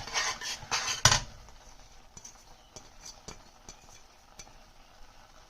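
A spoon scraping and stirring ground coconut into thickened milk in a metal pot, a loud burst of clattering strokes at first, then quieter scattered scrapes and taps.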